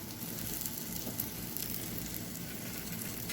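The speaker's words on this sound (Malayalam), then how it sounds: "പാന് ചൂടായി വന്നാൽ നമ്മൾ ഉണ്ടാക്കി വെച്ച പൊറോട്ട ഇതിലേക്ക് വെച്ച് കൊടുക്കാം." A vegetable paratha with broccoli frying in oil on a hot pan, giving a constant close sizzle that stays even from start to finish with no voices.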